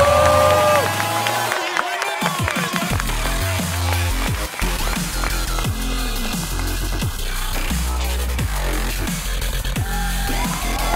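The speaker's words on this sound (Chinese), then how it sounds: "接下来让我们掌声有请不踢足球讲段子的冯潇霆" A studio audience at a Chinese roast comedy show claps and cheers as a former footballer comes on stage, with the applause running steadily under loud music stings.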